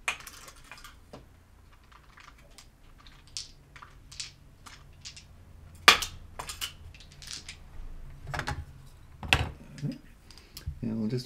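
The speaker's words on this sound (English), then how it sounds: "Okay, so I'm gonna get some dice." Plastic dice clack and rattle as they are gathered up for a Lego dice tower, a scatter of brief, close clicks and taps at a table with no talk.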